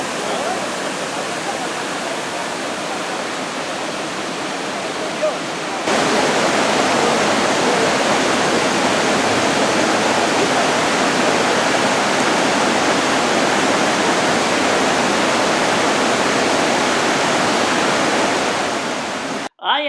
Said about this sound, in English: we went for a dip in the river